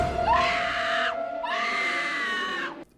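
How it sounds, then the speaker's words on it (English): A woman lets out a piercing scream in the horror film I Know What You Did Last Summer. It comes as two long, loud, sustained shrieks with a brief break between them. "Iconic scream right now, right now, right now."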